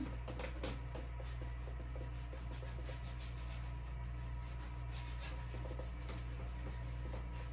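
A paintbrush scrubs paint into a sky area of a painting, giving soft, quiet, repeated bristle rubs over a steady low background hum.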